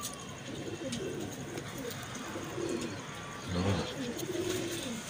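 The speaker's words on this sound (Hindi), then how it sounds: "ये हमारा कबूतर बड़ा 10 नंबर उसका बेटा है।" Soft, low coos from Ferozepuri breed pigeons repeat over a steady outdoor background hum, with one fuller coo standing out near the end.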